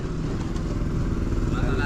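A Robin engine drives a water pump as the level runs deep, its steady laboring drone loud and close, rumbling without pause.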